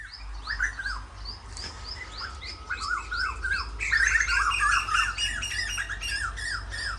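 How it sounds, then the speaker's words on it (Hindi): Many birds squawk and chirp in village trees in rural Punjab in the evening, a dense, busy chorus of repeated sharp calls over a steady low hum. "आपको कोयल की आवाज़ सुनने को मिल रही होगी।"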